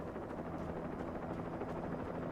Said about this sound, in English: And a chopper.